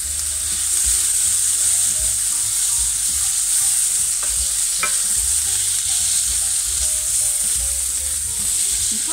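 Onions frying in a pan and being stirred, a loud continuous sizzle with occasional scraping and clinking of the utensil against the pan, no talking.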